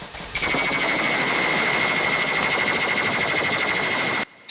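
Sci-fi sonic gunfire from the classic Doctor Who serial The War Games: a dense, loud buzzing burst with a steady piercing whine on top, running unbroken for about four seconds before cutting off abruptly.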